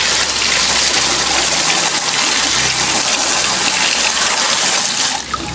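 A strong, steady gush of water runs from a shallow well pump, loud and close, holding constant for several seconds before easing slightly at the very end, with no voices.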